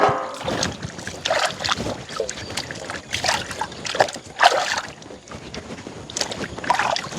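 Freshly dug, soil-covered sweet potatoes being washed by hand in water, with repeated sloshing and splashing bursts in an uneven rhythm, close and fairly loud.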